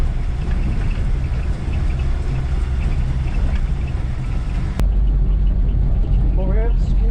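A Toyota FJ40 Land Cruiser engine rumbles at low speed with a deep steady drone that shifts abruptly in character partway through, and voices are heard near the end.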